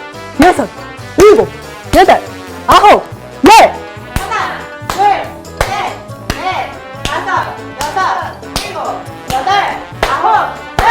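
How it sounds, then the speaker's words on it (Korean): Kids in a fitness workout clap loudly in time with a counting voice: four or five sharp, close claps first, then steadier rhythmic clapping continuing under a coach's voice. "이번에 우리 큰 소리로 박수를 한번 쳐볼게요"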